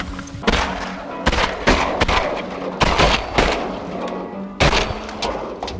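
Shotgun blasts during a duck hunt from a blind, several sharp reports in an irregular volley, loud and close, each with a short echoing tail.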